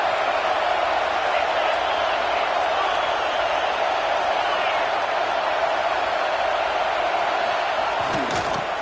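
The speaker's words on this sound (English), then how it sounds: "This crowd bringing the energy and noise early." A football stadium crowd roars in a steady, dense wash of cheering and noise that holds at full level throughout, with faint whoops rising near the end.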